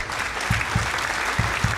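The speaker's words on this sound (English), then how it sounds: "Give you a clap." Steady applause from a small group fills the clip, with a few sharper, louder claps standing out in a loose rhythm.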